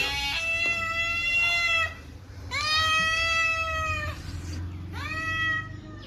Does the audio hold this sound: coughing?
no